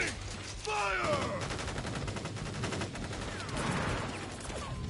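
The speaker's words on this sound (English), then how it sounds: "Ready, aim, fire!" Soldiers fire a rifle volley in the Crisis Core Reunion video game: sharp overlapping gunshots and a sustained burst of automatic fire, with voices and whooshing battle effects mixed in.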